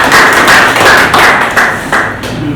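Loud, close applause from a conference audience welcoming a coach to the stage, dense clapping in rhythmic surges with a few thuds, no talk over it.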